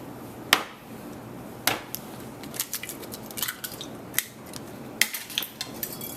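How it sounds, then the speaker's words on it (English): Two eggs are cracked into a bowl while making macaroni pie, giving sharp, close shell cracks and clicks spread out over several seconds with scattered small taps and knocks between them. "I'm just gonna crack in those 2 eggs"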